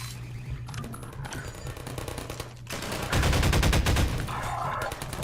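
Rapid automatic turret gunfire in Half-Life 2, a dense stream of sharp shots that grows louder and heavier after the first few seconds, over a continuous game background.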